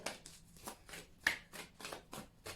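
Playing cards are shuffled by hand in a steady run of riffling bursts, about eight quick flutters with short pauses between, close and fairly quiet.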